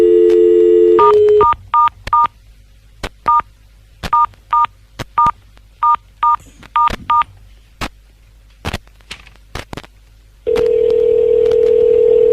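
A dial tone drops away into a series of quick touch-tone beeps and clicks as a number is dialed, then a steady phone tone resumes loudly.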